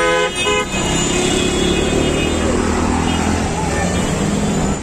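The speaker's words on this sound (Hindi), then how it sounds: "एक रास्ता में देखिए बस भी चल रहा है, ये गाड़ी भी चल रहा है, रिक्शा भी चल रहा है, बाइक भी चल रहा है" Busy street traffic in Bangladesh, with buses, cars, rickshaws and motorbikes, forms a dense continuous roar, with repeated horn toots and a steady engine rumble throughout.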